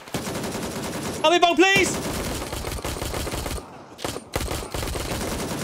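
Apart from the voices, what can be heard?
gunfire in video game Gray Zone Warfare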